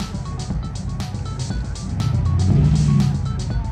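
A Volkswagen car drives past at an outdoor cars-and-coffee meet, its engine drone swelling as it nears and then easing off over steady background traffic noise.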